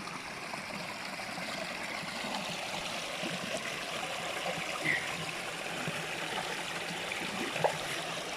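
Cool stream water flows in a steady, even babble outdoors, with a couple of faint splashy touches as a hand dips into it; no one speaks over it.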